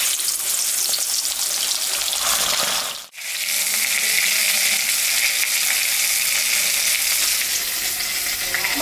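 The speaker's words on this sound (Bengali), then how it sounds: "মাছটা আমি এখন ভাজবো।" Fish frying in hot oil in a pan, a loud, close, continuous sizzle and crackle that drops out for a brief moment before resuming just as strongly, with no talking.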